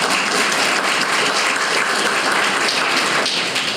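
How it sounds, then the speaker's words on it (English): A loud, dense wave of applause fills a community room dedication at a library, many hands clapping together continuously and close by with no voices on top. "Yeah, applause, that's right."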